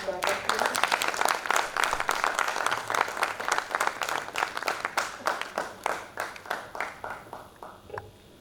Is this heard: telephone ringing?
no